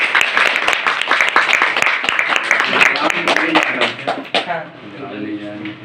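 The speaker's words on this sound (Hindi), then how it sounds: "एक बार ताली बजा दे।" Clapping celebrates a final Indian Army selection, a quick run of sharp hand claps over most of the moment, ending as a voice speaks and the clapping stops.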